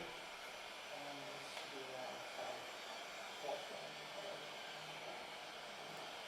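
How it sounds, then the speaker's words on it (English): A heat gun blows a steady broadband hiss while heating a piece of rubber, continuous and close throughout, with a few faint background sounds. "If your heat gun is really intense, you have to be careful you don't burn your rubber."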